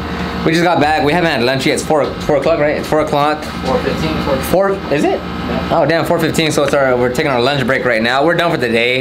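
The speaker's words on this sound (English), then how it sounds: "The loud noise you're hearing is from the AC unit." A loud AC unit runs steadily beside a detailing job while several people talk over the constant droning hum.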